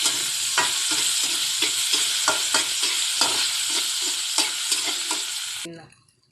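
Garlic and hotdog fry in a hot pan while a utensil stirs them, giving a steady loud sizzle broken by regular scraping strokes, close up, before the sound cuts off abruptly at the end.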